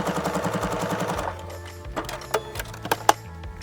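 A sewing machine stitches through quilted potholder fabric in a fast, even mechanical chatter for about a second, then stops, followed by scattered clicks and clunks of fabric handling.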